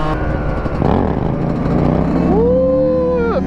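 A two-stroke dirt bike engine runs loud and close throughout, a steady buzzing drone that rises in pitch and revs up toward the end, with no pause in the noise.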